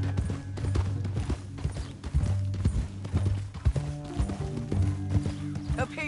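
Horse hooves clip-clop in the Red Dead Redemption 2 video game, a steady rhythmic trot under music and voices talking, with a brief whinny-like sound.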